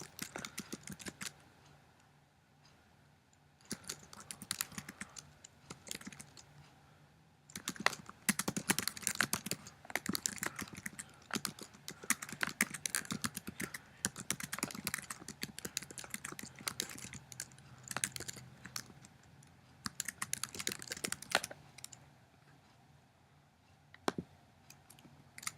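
Typing a description on a computer keyboard: quiet, close, fast bursts of key clicks in uneven runs with short pauses, continuing throughout with no voice.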